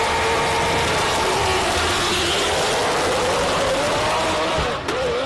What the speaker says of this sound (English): Sounds like an Indy car on the line.